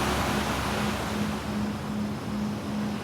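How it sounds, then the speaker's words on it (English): Steady ocean surf washing in as a continuous broadband roar, with a faint low tone pulsing beneath it, heard alone with no voices. "enjoy the calming sounds of the ocean"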